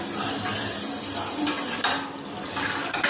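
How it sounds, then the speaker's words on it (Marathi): A spoon stirs and scrapes inside a pot of boiling milk tea, clinking against the metal sides over a steady bubbling hiss, with sharper knocks near the end. "याला या पद्धतीने चमच्याने या असं हलवायचं आहे"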